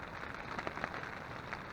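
Rain falls steadily at night on a campsite, a faint, even patter with scattered soft drops tapping close by, no voices.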